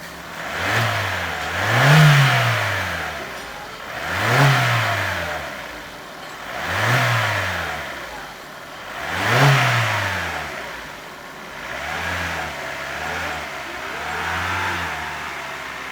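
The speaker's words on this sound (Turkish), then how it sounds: "Aracımızı çalıştırdık. Sesi bu şekilde." A Citroen C4 1.6 petrol engine is revved repeatedly from idle. About six loud, close rises and falls in engine pitch follow one another at a steady pace, with no talking.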